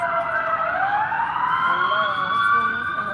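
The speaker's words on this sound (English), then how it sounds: "I'll wait till the sirens stop." Emergency vehicle sirens in the city wail loudly with rising and falling overlapping tones, continuous throughout, as if passing nearby on the street.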